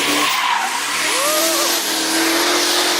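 Diesel-swapped Camaro making nearly 1,000 horsepower and 1,500 lb-ft of torque, roaring loud and close with a hard, sustained engine-and-tire scream and squealing pitch sweeps over a broad noisy rush, with no talk.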